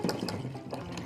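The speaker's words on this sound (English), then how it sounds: "In the space of 2 or 3 minutes, I can make a glass of exceedingly pleasant, sparkling water." Sparkling carbonated water pours into a glass with a continuous splashing, fizzing rush at moderate level. No one speaks.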